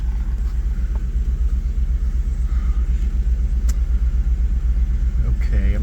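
The restored car called Bill cruises on the highway with a steady, droning engine rumble and road noise from inside the cabin.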